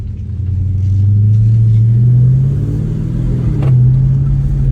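A brand new Scat car's deep engine rumbling and revving nearby, a low steady growl that swells and dips in pitch under a continuous loud drone, with no talking.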